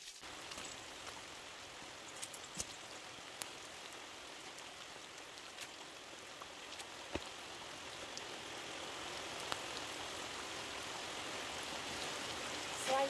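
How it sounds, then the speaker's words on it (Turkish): Steady rain falls on a wet morning, a dense continuous hiss with scattered individual drop taps, fairly close and gradually growing louder, with no voices. "Hava yağmurlu arkadaşlar, bayağı bir yağmurlu."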